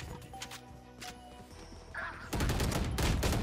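Burst rifle fire in the video game Valorant, a loud dense volley of shots arriving after quieter in-game noise, packed and sustained through the final second.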